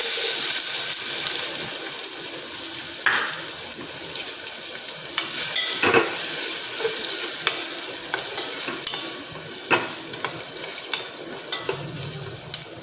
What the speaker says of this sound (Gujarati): હવે સમારેલી ડુંગળી નાખી દઈશું